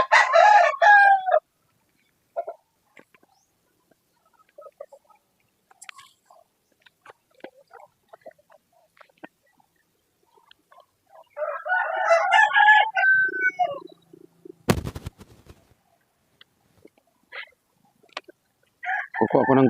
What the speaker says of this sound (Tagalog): Ito po yung aking mga alaga na mga manok